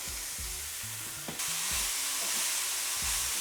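Finely sliced leek goes into a hot pan with a quiet sizzle that swells into a steady frying hiss, accompanied by a few soft clanks of stirring.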